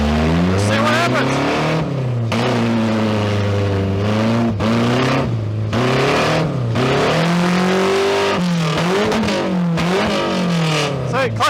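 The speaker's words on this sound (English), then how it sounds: "So let's just go for a couple of laps and see what happens." Loud, close engine of a neglected demolition derby car revving and shifting through laps, its pitch climbing and dropping repeatedly with brief cuts between gears.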